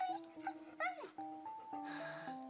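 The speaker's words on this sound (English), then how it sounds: "The dog trying to get in to get the steak?" A dog whimpers and yips in a high, wavering tone in the farming game Stardew Valley, with several short whines over soft game music.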